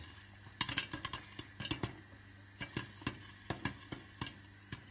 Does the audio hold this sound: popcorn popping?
yes